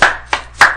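A few sharp, close handclaps ring out in quick succession, three distinct slaps in under a second, loud and isolated with nothing else around them.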